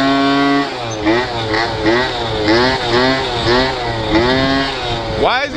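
A 50cc scooter engine revs hard during a wheelie, its pitch rising and falling in quick repeated surges, loud and close throughout.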